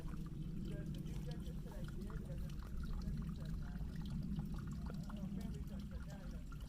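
Water trickles and pours steadily at a trailside water source on the Pacific Crest Trail, a continuous close rushing that holds even throughout.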